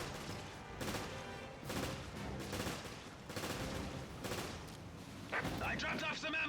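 Gunfire from the Resident Evil Revelations video game, a run of loud repeated shots and bursts in quick succession, with an in-game voice entering near the end.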